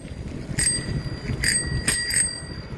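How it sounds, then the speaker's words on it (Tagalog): Bicycle bell rung close by, one bright ding followed by three more quick rings, clear and loud over faint outdoor background noise. "I'm gonna ring my bell."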